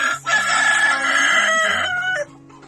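A rooster crows once, loud and close, a long ringing call that falls away at the end, followed by quiet clucking.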